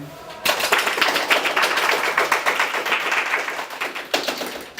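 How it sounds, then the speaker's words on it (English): An audience at a college live-streamed talk breaks into dense, steady clapping for a speaker, starting abruptly after a short pause and continuing loudly throughout, with a brief swell near the end. "Can you have a happy clap for him?"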